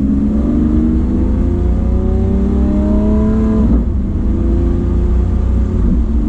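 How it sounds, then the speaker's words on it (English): A Lamborghini Aventador S Roadster's engine revs hard with the exhaust valve open, a loud, close, continuous howl that rises through the rev range, dips sharply for a moment, then climbs again. "You can hear the exhaust valve being open. We have the cracks."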